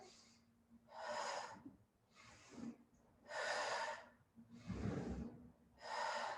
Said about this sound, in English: Breathing such an integral part of Pilates.